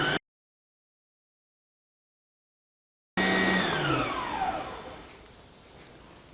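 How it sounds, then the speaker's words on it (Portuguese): An electric mixer beating cake batter gives a short burst, then goes silent for a few seconds before returning with a loud, close motor whine whose pitch sags and fades as it runs. "Agora vamos bater também mais 2 minutos."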